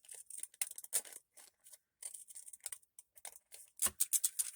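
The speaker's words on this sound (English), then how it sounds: "We could even cut just a little bit more." Scissors snip through a paper craft tag in short, crisp, uneven cuts with brief pauses between, close and fairly quiet, with no one talking.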